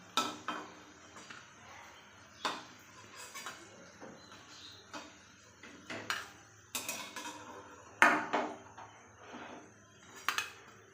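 Crisp fried fritters (bora) being lifted into a bowl, heard as a string of light metal clinks and utensil scrapes, with occasional louder knocks, fairly close and without talk.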